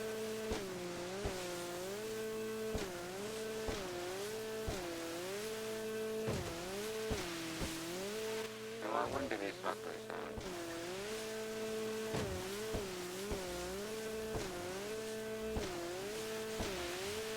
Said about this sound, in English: Is that a car?